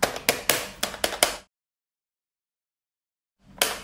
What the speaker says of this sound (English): Then comes the toys which make thumping sound like this.